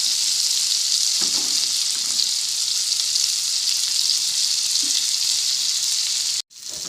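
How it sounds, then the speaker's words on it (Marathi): Surmai kingfish fries in oil in a pan, a loud, steady sizzle and crackle that fills the whole stretch, with a few faint clinks and a brief drop near the end. "थोडं तेल घातल्यामुळे मच्छी छान तडतडली जाते"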